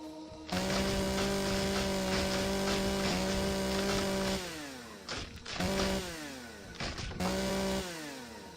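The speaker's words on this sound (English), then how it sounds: "my chainsaw. Reload it before I get to the tree this time." A loud chainsaw in a video game drones steadily, then revs and cuts into a tree in several bursts with brief pauses between, sounding close and mechanical.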